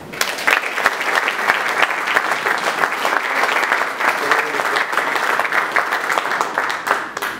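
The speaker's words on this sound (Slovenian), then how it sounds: "Še enkrat prosim en aplavz." A crowd at a Slovenian awards ceremony gives sustained applause, many hands clapping in a thick, steady roar that carries on without a break and tapers slightly at the end.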